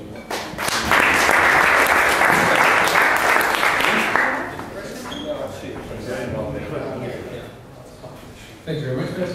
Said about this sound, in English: So please, a big applause for Aron from Ammers.